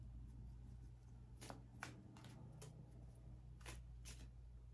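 Quiet riffling and soft slaps of tarot cards being shuffled by hand, several brief bursts over a low steady hum.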